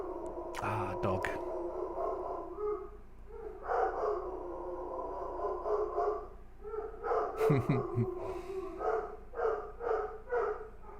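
A dog barks a few times within background game and room sound, with someone talking and breathing over it.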